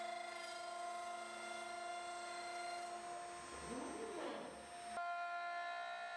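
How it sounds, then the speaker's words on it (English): A CNC wood carving machine, a Maverick 3x5 three-workstation router, turns a wooden blank round with a surface planing bit, giving a steady high-pitched spindle whine with a rising and falling cutting sweep midway, then a brief change in tone. "we will quickly turn the blank round to the desired diameter"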